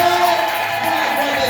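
A church congregation cheers and shouts loudly in praise during a worship service, a dense sustained roar of many voices.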